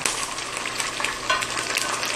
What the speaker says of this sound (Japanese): ちょっと跳ねる。 これ多分キクラゲです。